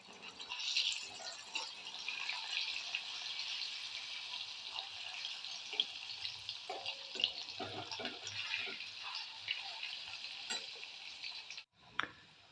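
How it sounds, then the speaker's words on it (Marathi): Kothimbir vadi, coriander fritters, fry in hot oil with a soft, steady sizzle and hiss, fairly quiet and continuous, with a few light clinks near the end and no talking. "कोथंबीर वडी तळून घेणार आहे"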